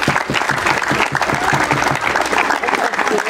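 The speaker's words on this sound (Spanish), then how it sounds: "Y también un aplauso" A crowd applauds at a thanksgiving celebration in Mocolikia, thick continuous clapping from many people that stays loud and even throughout, with faint voices mixed in underneath.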